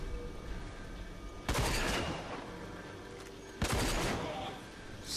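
Gunfire from the video game RAGE sounds as two heavy, booming shots a couple of seconds apart over a dense, rumbling game background.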